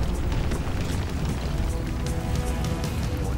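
A teammate blows up in the shooter Crysis Warhead: a sustained rumbling blast with crackling bursts, dense and loud throughout, with no clear talk.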